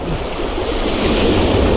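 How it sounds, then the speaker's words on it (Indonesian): Loud ocean surf and gusting wind at a seaside fishing spot, a continuous roaring wash of breaking waves with wind buffeting the microphone, close and unbroken throughout. "Ombak dan angin nggak jadi halangan, yang penting strike."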